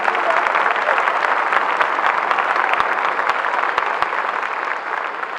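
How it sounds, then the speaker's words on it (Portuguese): A congregation at a church service applauds steadily and densely for about five seconds, a full wash of clapping that stays loud throughout with no talk over it. "Você pode aplaudir o Senhor?"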